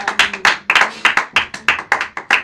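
A church congregation claps in acclaim during a service, roughly a dozen sharp, loud claps in a steady, even rhythm with no talk over them.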